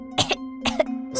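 A girl with a dry, weak throat coughs in three close bursts, each a pair of harsh hacks, loud and near with brief gaps between them.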